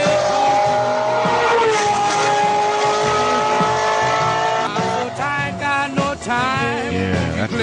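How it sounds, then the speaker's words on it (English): A Ferrari engine whines loud and high, holding a steady pitch before it shifts and warbles near the end, with a brief tire squeal mixed in. No voices. "The high carbon whine of a Ferrari, there's just something about it in the afternoon."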